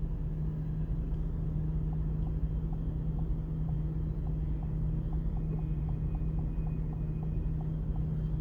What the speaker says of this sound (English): So you can see the pump turns on.